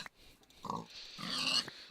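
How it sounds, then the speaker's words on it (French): Pigs oink and grunt in a Minecraft-style video game, a couple of short nasal snorts followed by a longer squealing grunt, close and moderately loud with no talking. "c'est une invasion de cochons"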